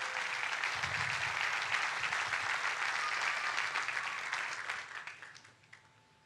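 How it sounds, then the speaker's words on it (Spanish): A church congregation claps together during a sermon, a steady wash of applause that holds for several seconds, then tapers into scattered claps and fades. "Denle un fuerte aplauso a Dios por eso."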